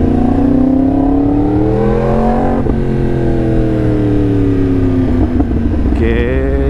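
A Yamaha R1M with a crossplane four-cylinder engine revs hard nearby, pitch rising and falling in long smooth sweeps with a steady, loud, throaty drone throughout.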